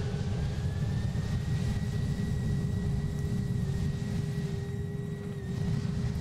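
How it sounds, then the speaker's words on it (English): A Roblox airplane's engine at full throttle during a takeoff roll down the runway gives a steady, loud droning roar with a sustained tonal whine above it, continuous and unchanging, with no voices. "now that we're kind of about halfway down the runway, I'm going to push full throttle now"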